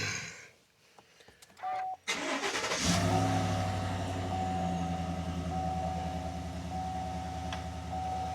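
A 2021 Chevrolet Silverado pickup starts up after a spark plug replacement and settles into a steady, even idle, the engine's low hum close and continuous.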